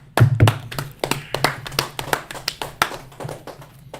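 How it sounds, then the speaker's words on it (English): A small group claps hands at a Sabbath church service, a sparse set of distinct, sharp claps in a loose, uneven rhythm, close and individually audible rather than a dense wash, with a low thump early on. "Clap it up for it."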